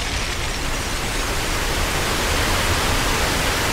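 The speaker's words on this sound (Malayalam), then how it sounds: "ഓ വെള്ളം കയറ്, വെള്ളം കയറ്" Water rushes into a train carriage in a horror video game, a steady loud broadband roar of flooding that fills the whole stretch without a break.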